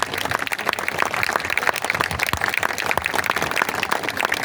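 Audience applause at a Hindi poetry recital (kavi sammelan) in a residential complex setting, a steady dense wash of many hands clapping at moderate distance, continuous and even throughout with no voices over it.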